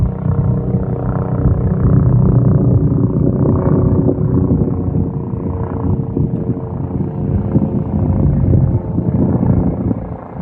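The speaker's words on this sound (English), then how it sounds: "Make no mistake, that is a helicopter." A steady, deep rumbling drone fills the whole stretch, like a helicopter flying nearby at night, loud and continuous without any talking.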